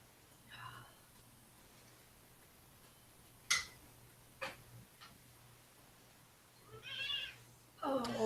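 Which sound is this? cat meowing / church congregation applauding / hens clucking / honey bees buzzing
cat meowing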